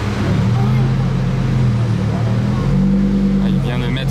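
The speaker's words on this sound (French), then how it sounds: "il vient de mettre l'échappement en mode Corsa" A sports car exhaust rumbles loud and close on a busy street in Corsa mode, with a deep droning engine note that rises and falls as it revs, while people talk over it.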